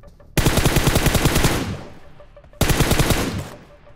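Loud, close video-game gunfire comes as a long rapid automatic burst, a pause, then a shorter burst, each trailing off with an echo.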